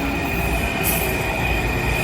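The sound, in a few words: Amtrak overnight train running on rails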